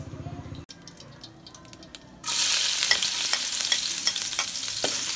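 Garlic and onion hit a hot pan and start frying. After a quieter stretch of small clinks and stirring, a loud, steady sizzle begins partway through and continues to the end, with occasional knocks of a utensil.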